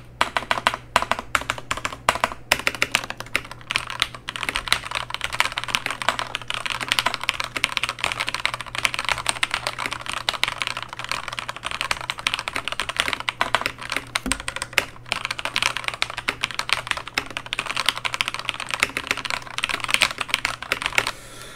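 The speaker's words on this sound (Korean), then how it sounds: "요쪽 키보드가 조금 더 타건이나 이제 뭐 소리가 엄청나게 좋죠" Rapid, continuous clacking of a Corsair K63 mechanical keyboard fitted with Ducky keycaps, keys struck in dense close-up bursts with an occasional heavier thock.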